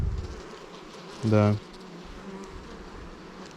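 A single honey bee gives a short, loud, steady buzz on a beehive frame during a hive inspection, lasting under half a second against quiet background hiss, with a brief word spoken before it.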